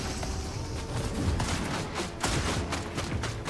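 Gunfire crackles in the Fortnite video game as a rapid, dense fusillade of sharp shots, fairly faint and mixed with game noise, with no talk over it.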